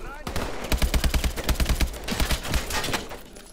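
Assault rifle fire in the video game Call of Duty Advanced Warfare: rapid automatic bursts of sharp, close shots in a steady rhythm, briefly pausing, then continuing and fading toward the end.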